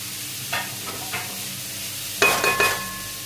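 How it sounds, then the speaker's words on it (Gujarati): Chilies being stirred and roasted in a pan for keema samosa, with a few soft scraping stirs early on, then a louder burst of sizzling and frying near the end; no talking. "એને પાંચથી દસ મિનિટ શેકાવા દઈશું"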